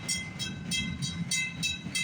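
A CN freight train, CNQ 107, rolls past at a level crossing, its cars clattering close by with a regular clickety-clack rhythm roughly every third of a second under a steady rumble.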